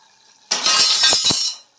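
A lid comes off a pot of Hyderabadi-style chicken curry with a sharp clink, followed by brief scraping and knocking as the contents are stirred, then quiet.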